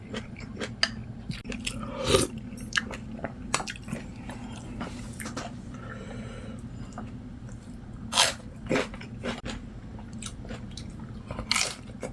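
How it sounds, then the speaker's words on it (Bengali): A man eats a home-cooked meal, likely canned sea fish cooked in a Korean clay pot with fried egg, making close, wet chewing and crunchy bites with scattered scrapes and squishes in a quiet room. "এখন আপনাদের দুলাবাই খাচ্ছে"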